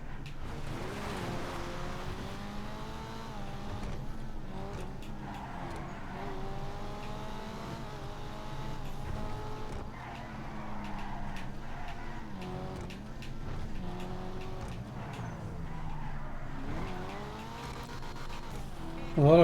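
Engine of a race car in a racing video game drones and shifts pitch through long turns, with tires squealing and skidding as it corners at speed, steady and continuous throughout.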